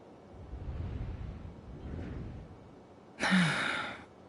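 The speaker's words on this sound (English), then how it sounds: "I heard Yehoda gasp" A character in the video game Genshin Impact gives a sharp, breathy gasp near the end, after a soft, airy ambient background.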